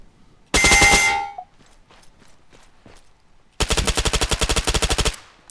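Two long bursts of rapid automatic fire from an HK MP7 in the ARMA 3 video game, each crackling at a steady fast rhythm and loud, separated by a quiet gap with faint scattered clicks.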